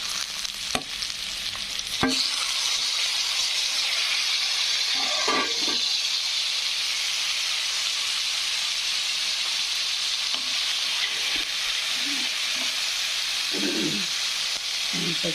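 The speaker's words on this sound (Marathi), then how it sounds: "मस्तपैकी कांदा परतू द्यायचा" Onions sautéing in a pan for a spicy Indian dish give a steady loud sizzle throughout, broken by occasional spoon scrapes and stirring knocks close by.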